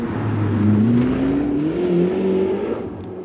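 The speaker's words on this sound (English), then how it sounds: "There's a bit of wind noise, there's a lot of noise from the engine" Ferrari 849 Testarossa V8 engine while driving. A loud, close, continuous engine drone rises gradually in pitch as the car accelerates, with no talking over it.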